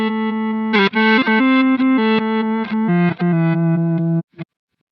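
An electric guitar played through a reverse delay effect on a Quad Cortex gives sustained notes that swell backward into each other with a distorted tone, a few note changes, then a quick final stab and silence.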